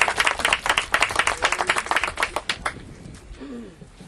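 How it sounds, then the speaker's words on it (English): Audience clapping at a middle school groundbreaking ceremony, a dense burst of many hands that tapers off over the last second, with a brief voice at the end. "let's give him a big round of applause"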